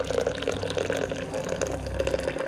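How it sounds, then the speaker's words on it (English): Hot water pours steadily over coffee grounds in a French press, gurgling continuously, close and fairly quiet, with no voices. "I'm going to pour it over top of all the grind"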